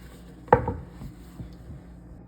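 Carrots being cut on a board: a single sharp knife strike near the start, followed by a few faint, scattered taps and knocks in a quiet room.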